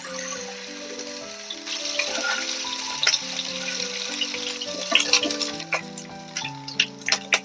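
Pieces of chilli fish shallow-frying in a pan of oil give a steady, close sizzle, with soft clinks and scrapes of a utensil turning them, and no one talking.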